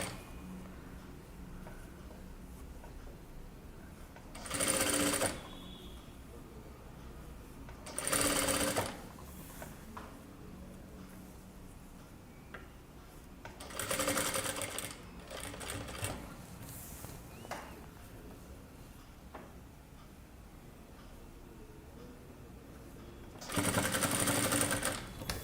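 A sewing machine stitches a kurta seam in four short loud bursts spaced apart, each a dense buzzing run, with quiet pauses between them.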